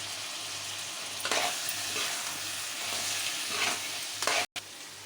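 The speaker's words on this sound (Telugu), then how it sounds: "అలాగే కరివేపాకు కూడా వేసుకున్నామండి చక్కగా చిన్న చిన్న ముక్కలుగా తీసుకొని వేసుకున్నాము అది ఇప్పుడు ఒకసారి కలుపుకుందాం" Crab curry with finely chopped curry leaves is stirred in a pan, giving a steady close sizzle broken by a few louder scraping strokes of the spoon. No one speaks.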